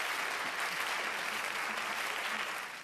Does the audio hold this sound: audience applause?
yes